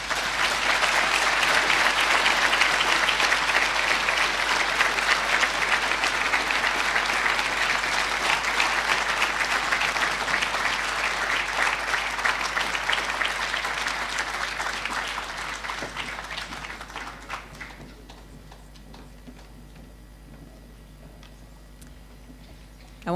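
Sustained audience applause after a climate change lecture, a thick steady roar of clapping that slowly fades over about seventeen seconds into scattered claps and near quiet.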